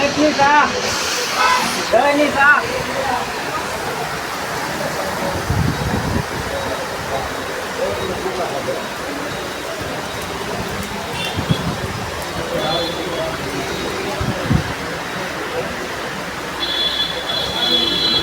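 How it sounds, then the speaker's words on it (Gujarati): Heavy rain pours down in Bhavnagar, a dense, steady roaring hiss that lasts throughout with little change in level. "ભાવનગરમાં વરસાદ ચાલુ થઈ ગયો છે"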